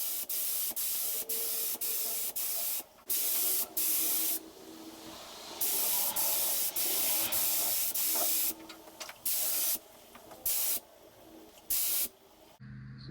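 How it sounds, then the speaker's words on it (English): A spray gun lays primer onto a Chevy truck tailgate in steady hissing bursts, several long passes broken by short pauses, close and loud with no talking. "pour the primer in, get it all mixed up, get it ready, start spraying it"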